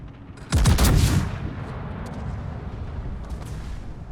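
Battleship main guns firing at the New York in a naval video game: one heavy, booming salvo with a sharp crack that rolls into a long, rumbling decay, loud and close with no voices.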